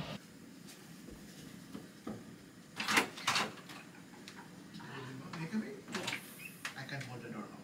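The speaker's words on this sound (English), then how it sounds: "I can hold the door now." A door in a London setting opens with several clattering mechanical knocks and bumps, loud and close, while people talk nearby.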